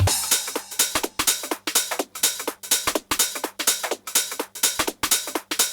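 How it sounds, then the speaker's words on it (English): Crisp hi-hat hits in a dance-music production beat, ticking in a steady offbeat pattern with a light low pulse underneath, close and bright with no voices. "So we've also got the hi-hats, which sound like this."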